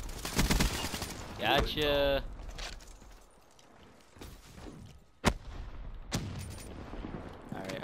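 Gunfire in the video game Call of Duty: a rapid automatic burst up front, scattered single loud shots and crackles later, with a voice calling out briefly over the battle.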